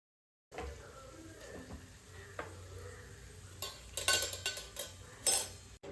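Onion and green chilli cooking in a little oil in a pan, with soft sizzling and stirring, then louder bursts of scraping and utensil clatter toward the end; no talking.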